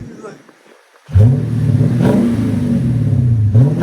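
A 2008 Lexus IS F with a 5.0L V8 and a muffler delete, rising from a low idle into a loud, deep rev that holds and wavers for a few seconds before climbing again.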